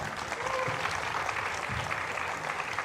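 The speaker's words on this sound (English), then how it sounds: "Let's give him a round of applause." A conference audience applauds a speaker from The Limiting Factor at a Tesla panel, a steady dense wash of clapping that holds evenly throughout, fairly distant.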